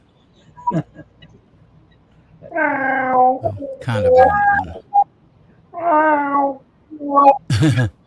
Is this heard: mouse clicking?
no